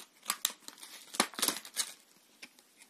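Corsair Vengeance LPX RAM packaging being opened by hand: a run of close, crisp crinkles, tears and plastic snaps in quick irregular bursts, with no voice.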